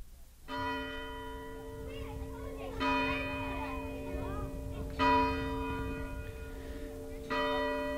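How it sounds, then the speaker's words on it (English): A village meeting house bell rings out on a Thanksgiving morning, four resonant strikes spaced a few seconds apart, each ringing on with long overtones, while children's voices chatter faintly in the background. "The sound of a meeting house bell, summoning the villagers to services on a Thanksgiving morning more than 150 years ago."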